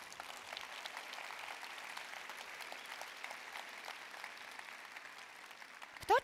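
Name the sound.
audience applause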